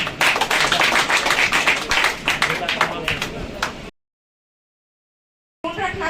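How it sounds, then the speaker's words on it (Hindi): Audience clapping at a school event celebrating student success, dense and loud for about four seconds before dropping out abruptly, with a brief burst of sound returning at the end. "ताली बजाइए तो आवाज भाई।"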